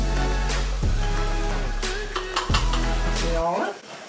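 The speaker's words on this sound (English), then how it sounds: "Mix it all together" Parmesan cheese, lemon juice and lemon zest being mixed for shrimp linguine, with soft stirring and scraping, a few sharp utensil clicks against the bowl, and low background hum.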